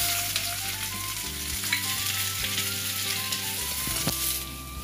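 Onions frying in oil for a cashew curry, a dense, continuous sizzle heard up close with faint stirring scrapes mixed in, and nobody speaking.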